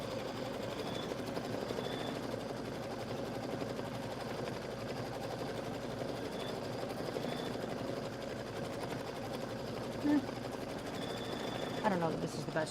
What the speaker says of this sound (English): this is my test sew out to see how it's going to work